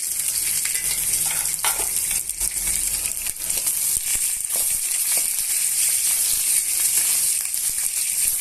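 Chana dal, peanuts, sliced onion and green chilies frying in oil in a pan for lemon rice, a loud, dense, continuous sizzle heard up close with occasional stirring scrapes and no talk.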